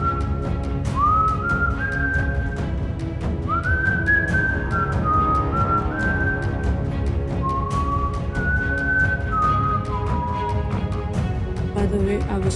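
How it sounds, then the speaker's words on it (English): Someone whistles a lilting tune, sliding between notes in short phrases, loud and close over a busy background of music or clatter. "I came downstairs whistling at her"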